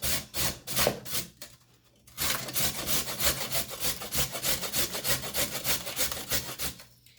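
Carrots are rubbed hard against a box grater in quick, rhythmic rasping strokes, loud and close, with a brief pause before the steady grating resumes.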